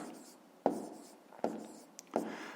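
Pen or pencil writing numbers by hand on paper during a fifth-grade maths exercise on rounding decimals: three short scratching bursts, close and quiet, each starting with a sharp tap and trailing off.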